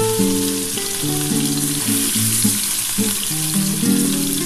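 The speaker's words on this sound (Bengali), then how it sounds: "বন্ধুরা তেলটা ওই গরম হয়েই আছে ওর মধ্যে আমি দুখানা পেঁয়াজ কুচি দিয়ে দিলাম এই পেঁয়াজটা একটু ভাজা ভাজা হবে" Chopped onion sizzling steadily in hot oil in a home kitchen, a continuous close crackling fry with a few stirs, while steady tonal hums sound underneath.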